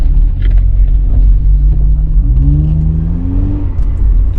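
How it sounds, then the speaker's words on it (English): A Honda Accord 2.0L VTEC engine rumbles loudly nearby, then revs up in a rising whine before easing back to a steady idle. "I mean, listen to this engine."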